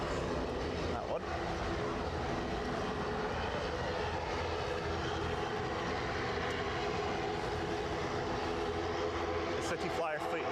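A City Flyer passenger aircraft at Edinburgh Airport produces a loud, continuous broadband engine roar that holds steady throughout, dense and close, with no pauses.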